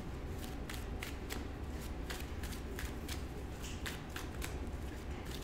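Someone riffle-shuffles a deck of Magic: The Gathering cards during a playtest session, producing a rapid series of crisp, papery flutters and snaps in steady bursts, close and continuous with no talking.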